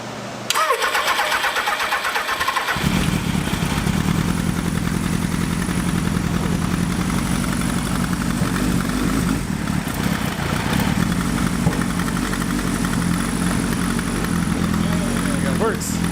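A Suzuki GS1100E motorcycle with Mikuni RS34 carburetors cranks briefly, fires up at close range and settles into a loud, steady idle that runs on without a break.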